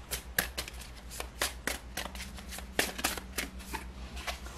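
Tarot cards being shuffled by hand, a close series of crisp riffles and soft flicks repeating in an uneven rhythm, fairly quiet with no talk.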